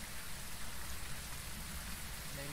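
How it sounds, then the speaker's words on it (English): Steady rain inside the video game Phasmophobia, heard from within a room as a dense, continuous hiss with a low rumbling undertone, constant and unbroken throughout, with no voices. "I can hear the rain in the room."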